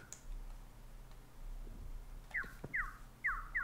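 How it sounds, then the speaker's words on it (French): Wild bird chirping in Minecraft with the Advent of Ascension mod: a few quick, bright descending chirps repeat toward the end over a faint ambient hum, with a soft thud before them. "Ça, c'est le cri d'un piou-piou sauvage."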